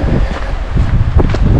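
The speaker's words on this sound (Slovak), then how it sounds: "trošku fúka, nevadí." Strong wind buffeting a microphone during a hillside walk in early September, a loud, gusty rumbling roar that fills the whole brief moment without any voices.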